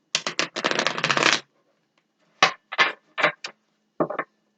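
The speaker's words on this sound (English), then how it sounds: "There's a couple shuffles." Two quick bursts of tarot card shuffling, a short ripple and then a longer riffle, followed by several separate soft card snaps and taps, close and clear.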